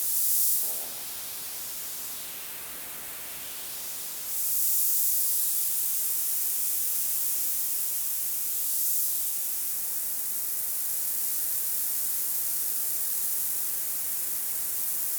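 A bright synthesized hi-hat hiss from an Asteroid snare and hats module sizzles on and off, swelling in short bursts over a steady wash of high noise.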